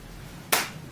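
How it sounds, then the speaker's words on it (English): A single sarcastic hand clap, one sharp, close slap rising out of quiet room tone and fading quickly. "Yeah, got a clap. Sarcastic clap, but you'll take it."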